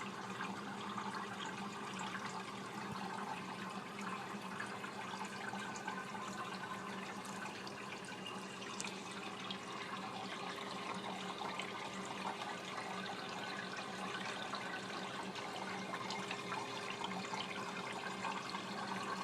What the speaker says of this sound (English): you can really see it right there, how it drips in and saturates the towels